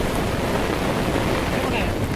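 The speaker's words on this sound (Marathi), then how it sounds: "येतो तो पाऊस बघा किती असतो" Dense, roaring monsoon rain at Khorninko dam in Lanja, Ratnagiri, fills the whole clip as a loud, unbroken wash of noise.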